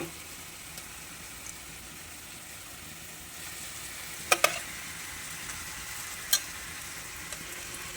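Chicken fries with sautéed onion, tomato and ginger-garlic masala for a Chettinad chicken semi gravy, a soft continuous sizzle broken by a few sharp spoon clacks against the pan near the middle.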